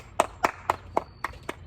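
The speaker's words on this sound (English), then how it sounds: "Welcoming, give her a big round of applause" A guest being welcomed onto a show with applause, heard as a few sharp, evenly spaced hand claps rather than a full crowd, close and distinct with no talking.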